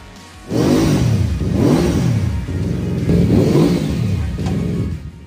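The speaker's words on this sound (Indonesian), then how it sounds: "Inilah motor cruiser terbaru di kelas 500cc, saudara dari motor yang belakangan ini viral di Indonesia" A Benda Dark Flag 500 cruiser motorcycle with a 500cc engine revs close by, rising and falling in about four strong throttle swells over a steady idle, heard alone.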